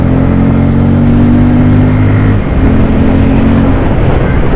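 A Bajaj Pulsar N250 motorcycle accelerates hard, its engine note loud and close with a strong, buzzing low roar that shifts pitch midway.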